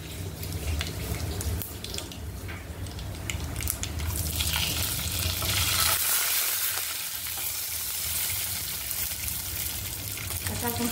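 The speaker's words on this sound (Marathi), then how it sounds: "आता मी लसूणची पेस्ट टाकते घरी बनवलेली जी" Homemade garlic paste goes into a hot pan for lasuni palak, giving a steady, close hiss of sizzling that swells midway and stays loud throughout, with a faint voice in the background.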